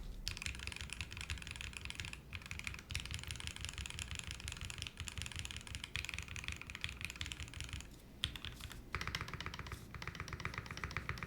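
Switches on a QK75 mechanical keyboard clack in quick, continuous typing bursts with brief pauses, close and crisp but fairly quiet, with no talking.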